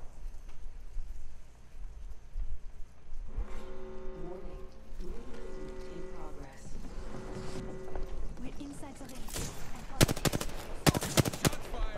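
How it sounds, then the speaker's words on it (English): Gunfire in the Apex Legends video game, a burst of rapid shots loudest near the end, following stretches of game music and effects under a player's voice. "Oh wow, somebody's shooting me."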